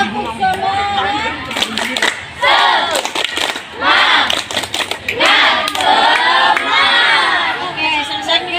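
A classroom of schoolchildren performs a loud, spirited clapping chant, shouting rhythmic words together in bursts punctuated by sharp unison claps, close and energetic.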